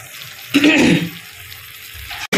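Egg and tomato curry simmering in a pan on the stove, with a short burst of bubbling sizzle that fades back to a quiet, steady low hiss; no voices.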